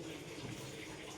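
Kinley bottled water pours steadily into a container, a continuous close splashing gush with no pauses and no talking.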